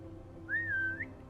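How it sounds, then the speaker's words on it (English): The classic character whistle in Assassin's Creed Mirage, a single clear sliding whistle of about half a second that rises at its end, heard close over a low background hum. "Yep, the classic whistle."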